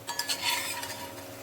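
Fried bitter gourd with bay leaf is stirred into a pot of dal, a brief, close scraping stir with a light sizzle and no voices.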